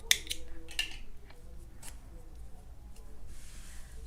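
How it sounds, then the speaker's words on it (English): Scissors cutting yarn: a couple of quick, close snips near the start, followed by faint handling rustle in a quiet room. "Then you chain 1 and cut your yarn."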